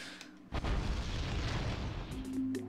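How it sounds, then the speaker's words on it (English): In the Pokemon XD: Gale of Darkness video game, a heavy explosion booms in suddenly and rolls on as a loud, sustained rumble, followed by a few short electronic tones near the end. "And then, as we keep running away, more explosions! More explosions! Boom!"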